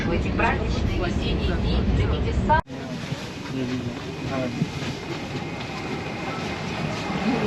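Kazan metro train running underground, a loud rumbling roar with rolling rail noise that shifts abruptly midway, with voices faintly audible beneath the din.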